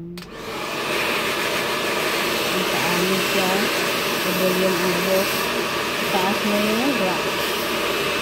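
A handheld hair dryer blows steadily and loudly while hair is brushed during a home blow-dry, with a constant airy roar and a fluctuating tonal whine running the whole time.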